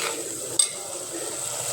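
Turmeric and ginger paste frying in a pan for a village-style fish curry, a soft steady sizzle close by with a single brief utensil clink partway through.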